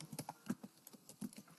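Typing a web address on a computer keyboard, heard as a quick, irregular run of close, crisp key clicks with a few louder strikes and no talking.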